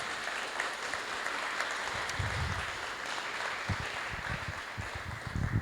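A government procurement event audience gives a sustained round of applause, even and moderately distant clapping that fills the room without any talk over it.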